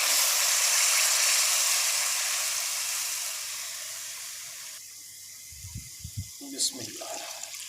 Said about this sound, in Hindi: 2 गिलास हम पानी के शामिल करने लगे हैं।